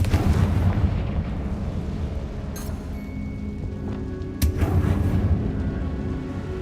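A fiery Confringo spell from Hogwarts Legacy bursts with a loud explosive boom over a dense rumbling backdrop, followed by a second sharp blast a couple of seconds later.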